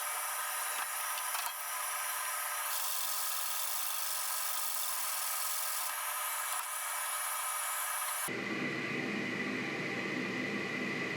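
Hand sanding wood in a workshop beside a downdraft sanding table, a steady hissing rasp of abrasive over the board that carries on without a break, close and fairly loud, with an abrupt change in tone near the end.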